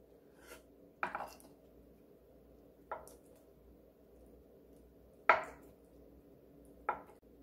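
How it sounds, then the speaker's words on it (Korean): Quarter block of tofu sliced with a knife on a board, four separate soft thuds spaced a second or two apart in a quiet room, with no talking. "두부 4분의 1모 썰어줍니다."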